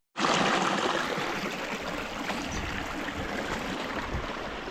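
Stream water rushes and burbles over rocks along a hiking trail in Kalbarri, a steady close-up broadband wash that starts abruptly and continues without break, no voices.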